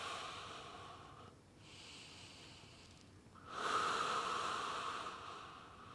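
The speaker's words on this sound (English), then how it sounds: "In through your nose, out through your mouth." Slow breathing during a follow-along stretching routine, a soft airy inhale through the nose followed by a longer, louder exhale through the mouth, close and alone with no talking.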